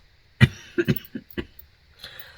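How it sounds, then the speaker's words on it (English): A person still recovering from being sick coughs four or five times in quick, uneven bursts, close and fairly loud, with no talking. "I still have a cough from being sick"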